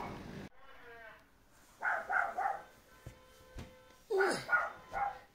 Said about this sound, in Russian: Что он там лает?